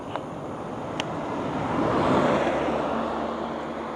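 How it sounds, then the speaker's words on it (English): A car or other vehicle rolls up behind a bicycle on a road near Innisfail, Australia, its engine and tyre noise swelling steadily over a few seconds under wind rush, with a couple of faint clicks early on. "There's a car behind me. A vehicle of some sort."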